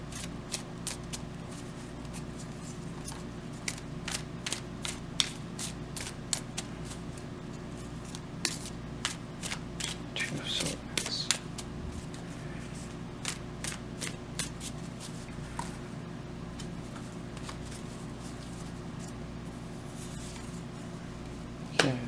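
Tarot cards are shuffled by hand in a long run of crisp, rapid riffling bursts, close and fairly quiet, continuing for the full stretch with no speech.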